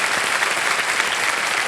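A studio audience at a TV quiz show claps in dense, steady applause, loud and continuous throughout.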